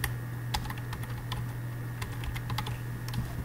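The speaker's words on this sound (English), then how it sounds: "I'm just gonna type it along with you." Code being typed on a computer keyboard, a quick irregular run of close key clicks over a low steady hum.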